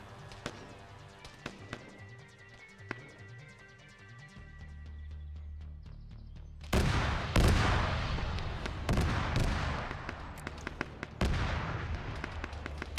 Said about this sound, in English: Some more shots are being delivered.